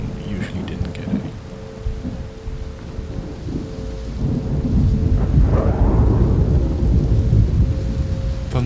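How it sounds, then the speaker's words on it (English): Thunder rumbles low and rolling through steady rain in the Planet Coaster 2 video game, the deep growl swelling in the second half as drops patter continuously throughout. "Thunder rolled through every now and then"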